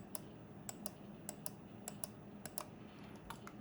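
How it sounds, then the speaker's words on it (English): Button clicks from a Fantech Hero UX1 gaming mouse, a series of sharp, faint, close-up clicks spaced irregularly over a quiet background. "So that's the mouse clicks."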